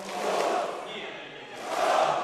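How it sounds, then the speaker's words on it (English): Esports arena crowd at the Dota 2 Kiev Major 2017 during Virtus.pro versus OG, a loud collective roar of chanting voices that dips briefly then swells again, sounding like booing. "they started the OG chant, and then instantly there's a boo"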